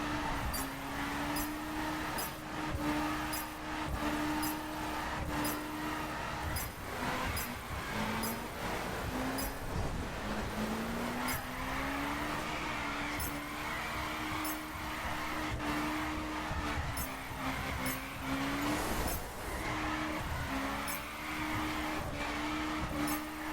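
A Subaru BRZ in The Crew racing game drives at high revs in third gear on the limiter, its engine note droning steadily and wavering slightly as it drifts, loud and continuous throughout.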